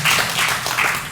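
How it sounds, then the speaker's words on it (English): Audience applause at an evening talk on genomics: a short, moderately loud burst of clapping from a seated crowd, evenly textured with slight swells, and no voices over it. "I'll give you a little clap in advance"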